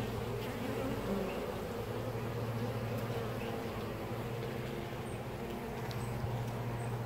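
Honey bees buzz densely around a beehive comb with capped brood, a steady close swarm drone that holds evenly throughout with no voices.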